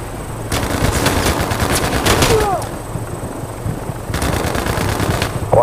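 Gunfire in Battlefield Mobile, with sustained rapid automatic bursts in two long stretches and a short gap between them, loud and close, with radio chatter now and then.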